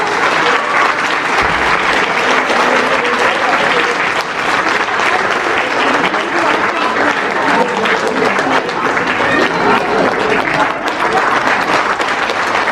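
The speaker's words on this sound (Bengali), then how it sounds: "একটি জোরে করতালি হোক" A festival audience at a recitation event claps loudly and continuously, a dense, close wash of applause that holds steady throughout.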